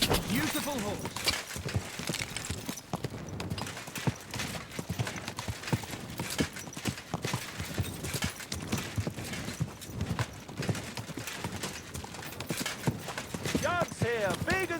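Horse hooves clip-clop at a steady walking rhythm in the medieval video game Kingdom Come: Deliverance II, close and continuous beneath stretches of character dialogue, with a faint whinny near the end.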